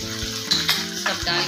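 Sauces including soy, chili, red chili sauce and Schezwan chutney being stirred into sizzling Maggi Manchurian in a hot pan, a steady loud frying hiss with a few sharp scraping clacks of the spoon against the pan.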